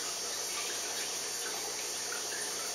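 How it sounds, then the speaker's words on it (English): Tea being poured carefully into a kombucha SCOBY container, a steady close, even stream of splashing liquid running throughout with no talking. "I'm going to very carefully pour our tea into our SCOBY container"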